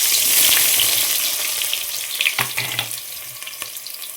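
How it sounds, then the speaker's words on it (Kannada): Sliced onions frying in a generous amount of hot oil for dum biryani, a dense close sizzle that crackles more unevenly toward the end, with no voices. "ಆ ಈರುಳ್ಳಿನ ಹಾಕ್ಕೊಳ್ತಾ ಇದೆ."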